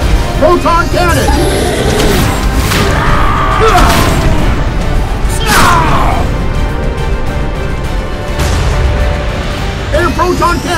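Proton cannon firing effects in a superhero battle against the Hulk: two big rising whooshes ending in booming crashes amid a busy layer of effects, with a voice calling out under the noise.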